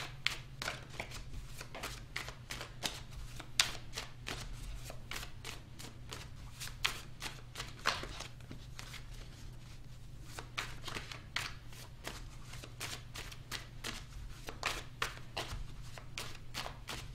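Tarot cards being shuffled close by, a steady run of soft rapid riffling and slapping against a low constant hum, with no voices.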